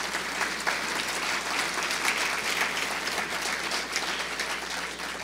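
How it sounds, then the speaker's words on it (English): An audience at an energy summit applauds the Virginians with sustained, dense clapping that stays even and moderately loud for several seconds, then begins to taper. "So how about a round of applause for our Virginians?"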